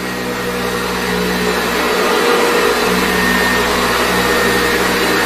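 A 1940s vacuum cleaner runs close and loud, a steady whining motor roar with a constant hum that holds for the whole stretch, with no one talking.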